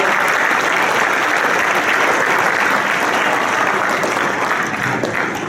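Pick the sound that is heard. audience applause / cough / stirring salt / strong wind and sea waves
audience applause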